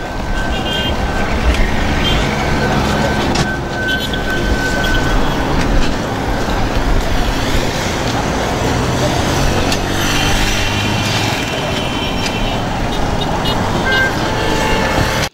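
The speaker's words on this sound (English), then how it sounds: "tried to clear the traffic confusion which developed as motorists tried to maneuver the gridlock" Gridlocked motor traffic on an Abuja road under lockdown makes a dense, steady roar of idling and crawling engines, with scattered car horn toots sounding over it throughout.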